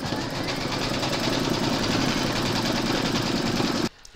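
A sewing machine runs steadily as it stitches a satin-stitch round on a fabric bookmark, a continuous fast mechanical whir that stops abruptly near the end.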